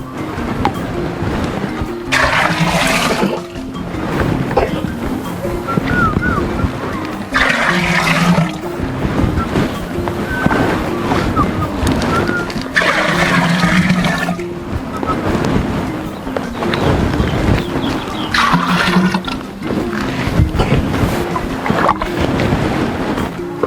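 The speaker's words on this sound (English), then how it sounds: "I'll use my calabash, guara, to put water into the pot." Water poured from a calabash into a pot comes as repeated splashing, gurgling pours in surges of a few seconds each, close and loud, with wind buffeting the microphone throughout.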